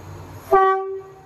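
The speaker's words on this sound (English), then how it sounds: "Watch out for train horns." A loud train horn sounds once, abruptly, holding steady for about half a second before trailing off over a low rumble.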